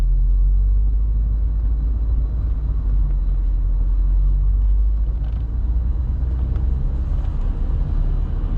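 A 1967 Rolls-Royce cruising on the road, heard from inside as a steady, loud low rumble of engine and road noise that stays constant throughout with no voices.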